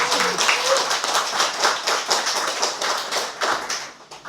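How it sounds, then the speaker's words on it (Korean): An audience applauds a former university president after a lecture, with steady rhythmic hand clapping that rises and falls in pulses. A voice is briefly heard at the start before the claps carry on. "박수 부탁드립니다."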